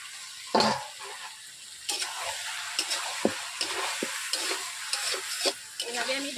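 Chicken pieces sautéing in a covered pan for a village-style curry, with a steady sizzle and repeated scraping stirs of a spatula, plus a few sharp clinks against the pan.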